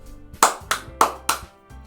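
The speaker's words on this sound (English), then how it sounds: "The 4 of us applaud." Four sharp, evenly spaced claps ring out close by, a short round of applause in the Doki Doki Literature Club video game.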